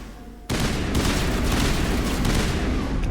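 Sudden burst of loud, sustained gunfire from the Mass Effect game, erupting after a quiet half-second and continuing as a dense, rapid fusillade with heavy booms.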